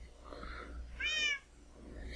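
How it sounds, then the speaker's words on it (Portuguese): A short cat meow from the Minecraft Block Hunt minigame rises clearly for about half a second, standing alone above a low background hum. "Começar a miar."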